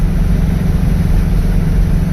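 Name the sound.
Baja engine with Weber IDF 48 carburetors idling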